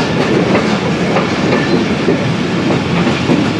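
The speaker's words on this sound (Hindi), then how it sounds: "दोस्तों अभी ट्रेन हमारी गुजर रही है Prem Nagar container terminal railway station से" Onboard the Allama Iqbal Express passing Prem Nagar container terminal on the Pattoki to Lahore line, loud continuous rumble and clickety-clack of wheels over rail joints, steady and close, with no talk.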